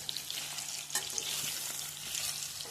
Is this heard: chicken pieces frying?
yes